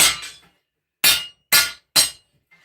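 Hammer blows on heated steel while forging a sword: five sharp ringing metallic strikes, two quick ones, then three evenly spaced after a pause, loud and close with no talk.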